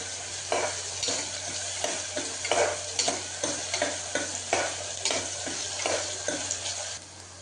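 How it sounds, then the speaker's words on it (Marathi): Onion frying in a pan while being stirred toward brown, a continuous sizzle broken by regular scraping stir strokes roughly every half second, close and fairly loud. "कांदा चांगला परतून घेऊया ब्राऊन कलर येईपर्यंत।"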